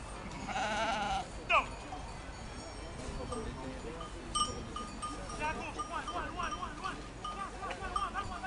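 Ewes bleat repeatedly in an open field at a French sheepdog trial championship, some calls near and others farther off, with a clanking bell and people talking throughout.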